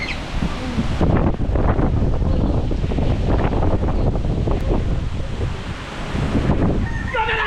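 Strong wind buffets the microphone in a steady low roar throughout, with faint bird chirps near the end.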